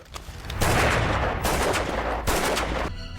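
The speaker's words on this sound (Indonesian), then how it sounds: "Max ini ternyata masih punya pistol cadangan dan langsung nembak si Ellie ini" Loud, booming pistol gunfire bursts in a dramatic film scene, several heavy blasts close together with echoing tails.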